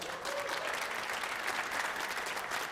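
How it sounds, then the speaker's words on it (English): A large audience at a squash tournament claps steadily in an even round of applause, heard from some distance and without any talk over it. "Let's give him a round of applause."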